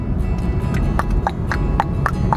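Horse hooves clip-clop in a steady series of sharp, evenly spaced knocks over a constant low rumble, with no clear whinny standing out.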